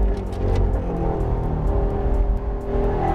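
Chevy Camaro SS 1LE V8 held in gear at high revs through a racetrack corner, a loud continuous engine roar with a steady buzzing drone throughout, no talking.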